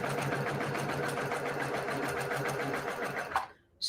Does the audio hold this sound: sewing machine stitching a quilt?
yes